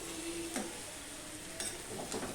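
Banana stem curry being turned over in a pan on a low flame, a faint steady sizzle with a few soft scraping clinks of a utensil against the pan.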